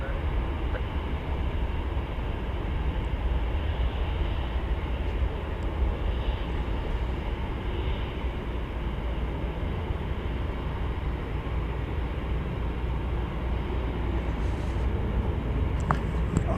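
A Boeing 747-8 jet airliner, flight 91 to Atlanta, at DFW Airport, a steady broad engine roar that holds at even loudness throughout, with faint voices in the background.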